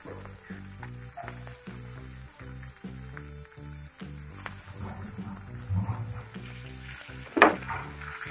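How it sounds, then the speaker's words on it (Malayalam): Prawn lollipops shallow-frying in a little oil, a steady close sizzle with crackling pops and a brief louder spatter near the end, with no voices. "നമ്മൾ ഇവിടെ ഇത് ഷാലോ ഫ്രൈ ആണ് ചെയ്യുന്നത്"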